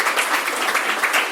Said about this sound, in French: Nous applaudissons notre Seigneur, c'est lui que nous applaudissons.